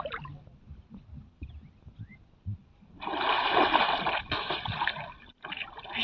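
Someone dives under the water of a village pond, with a few soft splashes and sloshes followed by a louder rushing burst of churning water as they go under, heard close and outdoors.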